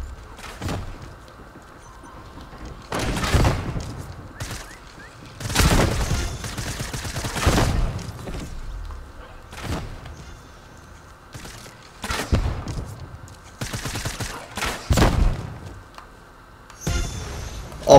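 Video-game gunfire in Fortnite Prop Hunt: repeated loud bursts and volleys of shots in uneven clusters, some rapid and automatic, with dull thuds between and no talk over it.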